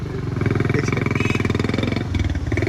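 A new 125 motorcycle engine idling and revving close by, giving a fast, even, throbbing pulse that holds steady, dips briefly, then resumes.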